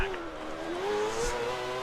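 Formula One car in the F1 2013 racing game pulling out of the pit lane at the Brazilian Grand Prix, its steady engine whine rising slowly in pitch, close and continuous, with faint other sounds underneath.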